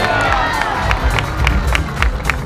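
A crowd in Salamanca at a La Vuelta stage event claps and cheers together, with steady, rhythmic applause and shouting rising over background noise.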